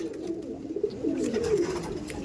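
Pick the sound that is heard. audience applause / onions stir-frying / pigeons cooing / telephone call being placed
pigeons cooing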